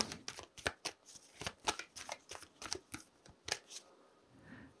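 A deck of tarot cards is shuffled by hand, with a rapid series of crisp riffling snaps and soft slaps in an uneven rhythm, close and fairly quiet, without any talking.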